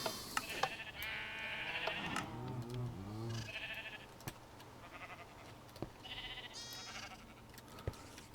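Sheep bleat in a Minecraft sheep farm, several short wavering calls, some high and some lower, spaced across the stretch over a quiet background.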